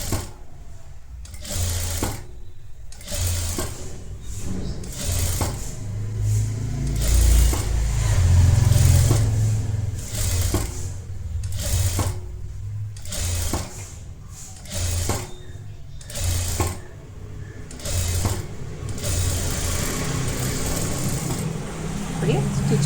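Sewing machine stitching a netted blouse: loud, close bursts of rapid mechanical whirring that start and stop repeatedly in short runs, with a voice talking in the gaps and over parts of it.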